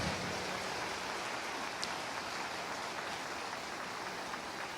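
A church congregation applauds, a dense, even wash of many hands clapping at once that stays steady and faint, as if heard from a distance, with no speech over it.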